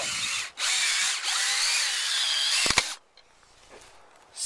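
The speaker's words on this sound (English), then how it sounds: "Now to set these, I'm going to just use my cordless drill." A cordless drill driving screws into a newel post base plate whines steadily at close range for about three seconds, briefly dipping twice, then cuts off leaving quiet background.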